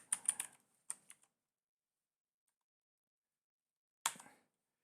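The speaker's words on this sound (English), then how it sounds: "I'm just going to type it in down here." A few quick bursts of keystrokes on a computer keyboard, close and crisp, separated by a long silent pause before a final short flurry of typing.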